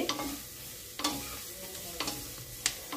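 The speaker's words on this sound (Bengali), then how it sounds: "সব সবজি এবার একসাথে ভালোভাবে ভেজে নিচ্ছি।" Mixed vegetables with chopped onion and green chilli are stir-fried for chowmein, with a soft steady sizzle broken by a few sharp scraping strokes of the spatula in the pan, close up and without voices.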